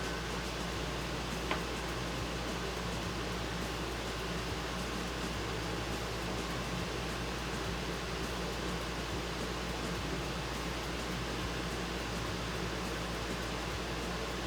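A household air conditioner runs steadily in a warm room, a constant broadband hiss with a low hum underneath, unchanging and moderately quiet throughout, with no one speaking.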